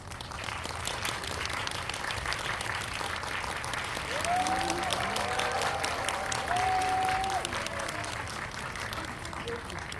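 An audience at a film screening applauds to welcome the director and lead actress of Revolver, a dense, sustained clapping that swells in the middle, with a voice faintly talking over it.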